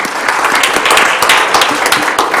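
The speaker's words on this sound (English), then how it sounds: "I want to give Carl a round of applause." Brief, lively applause in a school board of education meeting room welcoming a new general counsel, a loud close burst of many hands clapping with no voices over it.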